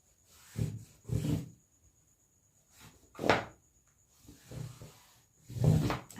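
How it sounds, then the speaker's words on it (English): Tailor's chalk scraping across fabric while marking a kaftan pattern, several short rubbing strokes in separate bursts, close and fairly quiet. "Trying to make my chalk very visible so that you can see it."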